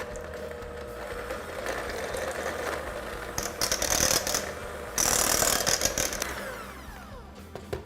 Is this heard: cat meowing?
no